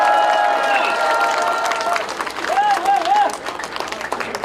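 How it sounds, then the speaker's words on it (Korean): Crowd applause at a Korean political rally, a broad wash of clapping and cheering mixed with voices and a loud announcer call, steady and fairly near for several seconds. "여러분 큰 박수로 청해 듣겠습니다"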